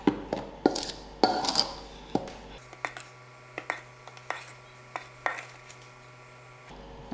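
Naan dough ingredients with yeast being mixed in a bowl, a utensil knocking and clinking against the bowl in a steady series of sharp taps, close and clear with no speech.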